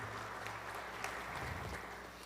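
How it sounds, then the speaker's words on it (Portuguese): A congregation applauds new child altar servers during Sunday Mass at a parish church, a steady, dense wash of clapping that holds evenly throughout with no voices over it. "Vamos dar uma salva de palmas a nossas crianças"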